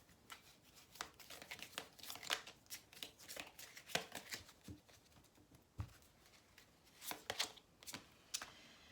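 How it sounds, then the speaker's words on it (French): Oracle cards are shuffled and dealt onto a table in a quiet room, giving close, crisp riffling and slapping bursts in irregular clusters across the whole stretch, with brief pauses between runs and no voices. "Allez, on va mettre d'autres cartes pour vous"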